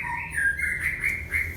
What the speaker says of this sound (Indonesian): Ini contoh di depan kandang ini murai batu, itu betinanya turun